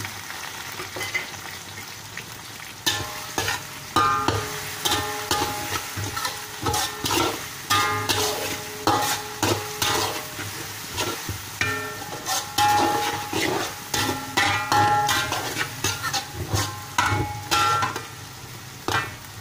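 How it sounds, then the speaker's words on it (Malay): Curry leaves crackle and fry in hot spices for a chicken curry, loud and close, with repeated bursts of stirring and spitting oil and no talk. "Kita letak daun kari balik. Kita letak daun kari."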